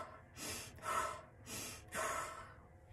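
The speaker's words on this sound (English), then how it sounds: "I do the Wim Hof method for breathing, and I'll take 30 rather fast exhalations and inhalations." Fast, forceful breathing at close range: four rapid, loud breath strokes alternate between inhaling and exhaling in an even rhythm, done as a Wim Hof style breathing practice, with no talking.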